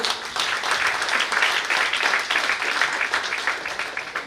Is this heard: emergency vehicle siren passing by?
no